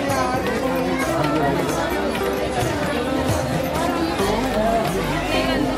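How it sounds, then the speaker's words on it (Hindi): Large, dense crowd gathered at the Barsana temple gate, a constant babble of many voices and movement close around, with a nearby person talking over the hubbub. "हम पहुँच गए मंदिर के गेट के पास, तो भीड़ काफ़ी ज़्यादा है"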